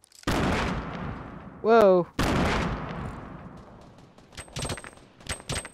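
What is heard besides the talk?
gunfire in Fortnite video game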